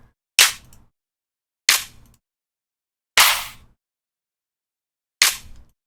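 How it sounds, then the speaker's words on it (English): Four sharp, punchy clap samples from the Future Bass and Trap Ammo sample pack strike at irregular spacing, each a bright, loud burst with a short decaying tail and silence between them. "let's add some claps in there"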